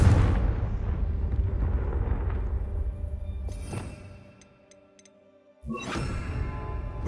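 The Confringo fire spell bursts in Hogwarts Legacy: a rumbling blast with a sharp crack, a brief near-silent lull, then a second loud explosive burst that fades into a lingering roar.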